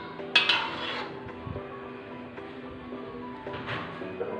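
Plain biryani being stirred in a cooking pot, with a spoon scraping and clinking against the metal in a few short bursts at close range, low kitchen hum underneath.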